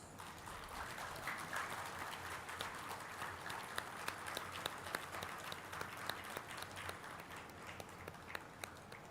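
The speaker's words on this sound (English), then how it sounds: "Maybe have a huge round of applause." Sustained applause from an audience at the inaugural function of a mining engineering conference, a dense steady patter of many hands with a few sharper claps standing out, filling the whole stretch without talk.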